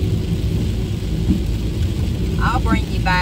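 Heavy rain drums on a car on a 58-degree dreary day, a constant loud patter heard from inside the vehicle, with a brief voice near the end.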